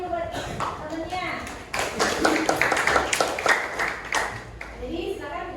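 A classroom group of children claps for a classmate, a dense patter of hand claps rising to a fuller burst midway and then thinning out, with kids' voices mixed in.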